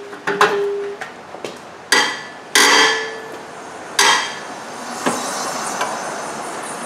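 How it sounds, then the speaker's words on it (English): A tight 19mm bolt on the rear brakes of a 2010 Nissan Murano being broken loose with a breaker bar gives a few sharp metallic cracks and clanks at irregular intervals, each ringing briefly, then fainter knocks. "So now we broke that bolt loose right there with the breaker bar."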